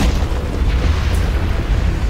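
An explosion set off by a switch in the video game Portal Stories: Mel, heard as a loud, sustained, booming roar of broadband noise with heavy low rumble, filling the whole moment without a break.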